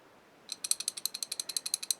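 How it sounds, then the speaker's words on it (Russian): Adjusting screw on the cross feed of an MN-80 lathe being loosened, giving a fast run of about fifteen crisp, evenly spaced ratchet-like clicks that starts abruptly halfway through, close and fairly quiet. "Теперь вот беру и полностью освобождаю регулировочный винт."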